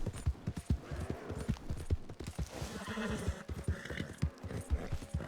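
In the game Red Dead Online, rhythmic clip-clop of horse hooves walking at an even pace, with a soft, artificial-sounding ambience behind them.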